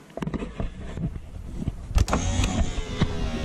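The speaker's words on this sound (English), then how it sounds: "Keep hold of the motor and it works, goes back up." Faulty driver's-side electric window motor on a 2006 Subaru Forester moving the glass: a close, straining mechanical whir with irregular clicks and knocks, louder toward the end.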